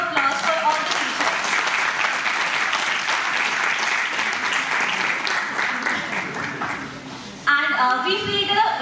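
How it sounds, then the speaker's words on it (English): An audience at a Delhi University graduate scholars' talk series applauds the teachers with loud, sustained clapping that fills the hall and then tapers off. "kindly give a huge round of applause for all the teachers"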